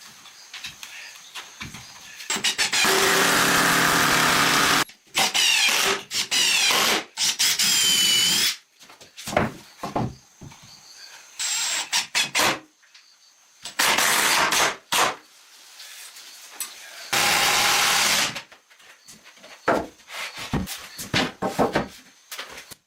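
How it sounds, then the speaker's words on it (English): A power drill drives into a wooden bench frame in repeated short bursts, each a few seconds long and separated by pauses, loud and close. "The bench frame is being strengthened with a drill"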